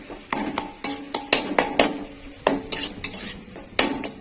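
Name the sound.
stirring and frying spice paste in a pan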